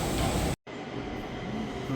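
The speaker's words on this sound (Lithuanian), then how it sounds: "Kita kryptim atvažiuoja vienas." A Stockholm metro train rolls into a station on the opposite track with a steady, loud rumble of wheels and motors, briefly cut by a moment of silence before the noise resumes.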